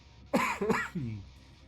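A man gives a short burst of coughing and throat clearing, two or three harsh close bursts followed by a lower grunt, then silence.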